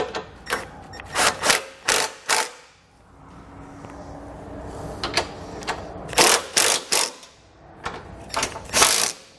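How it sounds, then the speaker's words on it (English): A ratchet with a 13mm socket snugs down trailer hitch bolts on a hidden hitch receiver, heard as short bursts of rapid clicking separated by pauses, close and fairly loud with no talk. "come back with a 13mm socket and snug it all down"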